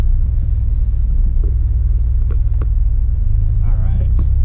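A DeLorean's engine rumbles steadily and loud inside the car while driving, a low continuous drone with people talking over it.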